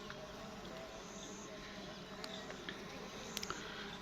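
Honey bees hum faintly and continuously around a bee box in the field, a soft steady buzz with a few brief clicks near the end.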